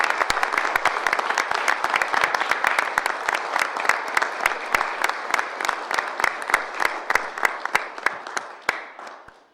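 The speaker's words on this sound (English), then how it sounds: "How about a round of applause?" Audience clapping at a city council meeting in Erlanger during a proclamation, a dense round of applause that holds steady for about nine seconds and then tapers off, without voices over it.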